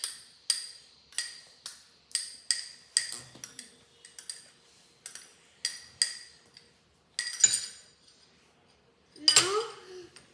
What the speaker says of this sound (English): Here's my bowl of curd, and now we mix it all together